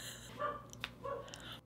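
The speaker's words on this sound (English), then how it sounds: "Is that you barking?" A dog barks indoors, two short faint yips heard at a distance in an otherwise quiet room.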